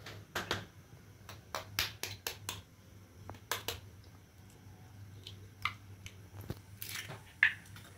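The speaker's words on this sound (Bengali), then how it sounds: "এবার এখানে 2টো ডিম ফাটিয়ে দেবো।" Two eggs cracked into a bowl in a kitchen, a handful of sharp taps and cracks with soft wet squelches between them, close and fairly quiet over a low steady hum, with no talk.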